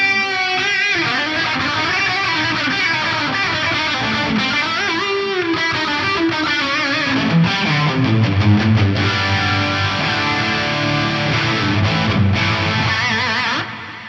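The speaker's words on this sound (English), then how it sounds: "Now I've got a stereo chorus feeding that circular delay and reverb." Electric guitar through a Strymon DiG stereo chorus feeding a circular delay and reverb, a thick, shimmering, distorted wash of sustained chords with repeating echoes that swirl and smear continuously.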